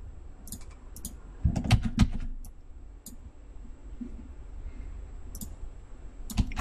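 A computer mouse clicks at a desk in short crisp bursts, some single and some in quick doubles, with a few heavier taps and quiet gaps between them. There is no talking.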